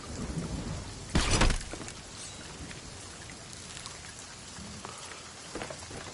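Rain falls steadily in a stormy pirate video game while a loud thunderclap bursts about a second in and rumbles briefly, then the downpour continues alone with a faint later rumble.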